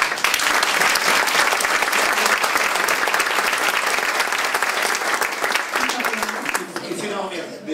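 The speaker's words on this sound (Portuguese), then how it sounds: "Palmas para eles." An audience at a public ceremony in Albufeira bursts into loud, sustained applause that fills the room for several seconds before thinning out toward the end.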